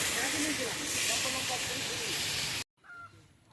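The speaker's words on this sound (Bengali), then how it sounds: "আগে মাছ ভাজা হচ্ছে" Fish fries in hot oil at an outdoor picnic cookout, giving a loud, steady, close hiss and sizzle under people's voices, which cuts off abruptly into a quieter moment with faint talk.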